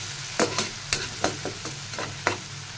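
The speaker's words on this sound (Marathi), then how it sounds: "टोमॅटो आपल्याला कांद्यासोबत छान असा परतून घ्यायचा आहे" Tomatoes sauté with onions in a pan, a continuous sizzle broken by several sharp scraping spoon strokes in an uneven rhythm, close and clear with no talking.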